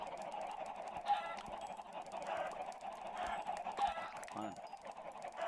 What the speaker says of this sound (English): this is probably the most efficient chicken farm that I've ever seen